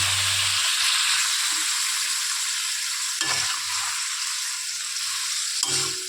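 Dry red chilli and spices crackle in a little hot oil in a wok, a constant close sizzle with a few stirring knocks from a utensil.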